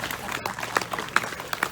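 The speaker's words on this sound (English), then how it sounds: "Round of applause for your early natal day." A crowd at an outdoor stage show in Colonial Williamsburg applauds a young boy, producing a brief, scattered patter of claps with a few louder hand strikes standing out over a busy background.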